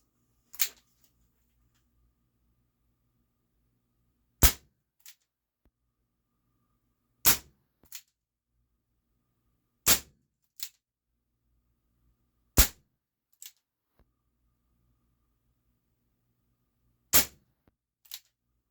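Barra 1858 Cowboy CO2 BB pistol firing six shots, each a sharp loud crack spaced a few seconds apart, several followed by a faint pinging impact, otherwise quiet between shots.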